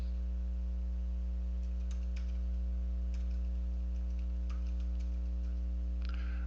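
Sparse keystrokes on a computer keyboard tap faintly and irregularly beneath a loud, steady electrical hum, with a few isolated clicks spread across the stretch.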